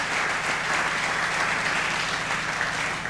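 A church congregation applauds the Lord, dense sustained clapping from many hands filling the room evenly for a few seconds.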